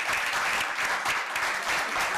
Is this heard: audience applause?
yes